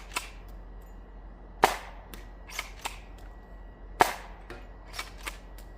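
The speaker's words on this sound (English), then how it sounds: "These are all loaded up with half-length mega darts to create kind of a slug type effect." A toy blaster fires mega shells loaded with half-length mega darts for a slug-like effect at an outdoor range. Five or six sharp, loud snapping pops come at irregular intervals, each with a short tail, and no one speaks.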